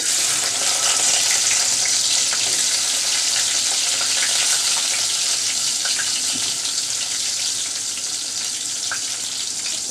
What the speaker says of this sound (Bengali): প্রথমে আমি রসুন আর পেঁয়াজটা দিয়ে দিচ্ছি